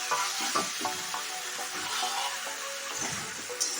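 Chicken frying in a pan for a home-cooked biryani, a steady close sizzle with scattered stirring scrapes and clinks running throughout.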